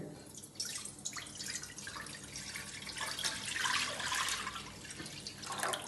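Water streams into a cooking pot for a vegetable rice biryani, a close, continuous splashing pour that swells and thickens as the pot fills, with no voices.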